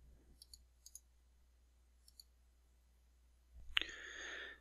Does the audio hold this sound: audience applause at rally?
no